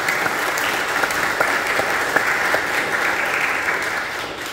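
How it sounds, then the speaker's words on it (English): A congregation at Sunday mass claps for birthday celebrants, a dense, even round of applause from many people that holds steady for several seconds, then eases slightly at the end. "We give them a round of applause."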